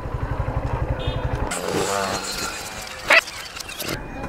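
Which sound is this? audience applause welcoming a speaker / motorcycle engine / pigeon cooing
motorcycle engine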